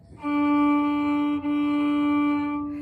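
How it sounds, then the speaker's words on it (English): Two long, even bow strokes on a violin, bowed over the fingerboard, sounding soft and slightly hollow, played close by with no voices. "What if my bow gets on top of the black fingerboard?"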